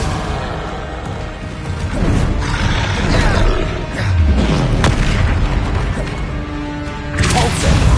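Bombarda blasting spell going off in the game Hogwarts Legacy: deep, booming explosions with crashing debris, several loud blasts close together over a continuous rumbling game soundscape.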